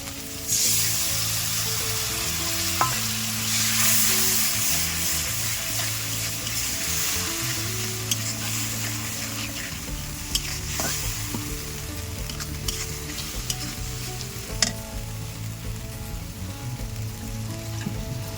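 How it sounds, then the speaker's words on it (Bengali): Ground mustard and poppy seed paste fries in a pan with a loud, continuous close sizzle, broken by occasional clinks and scrapes of stirring, with no one talking. "এবার দেবো এই বেটে রাখা সর্ষে আর পোস্ত"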